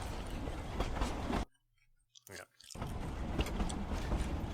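A train sound effect plays during a tabletop role-playing game session, a broad rumbling clatter that cuts out into near silence before returning just as loud, with voices talking over parts of it.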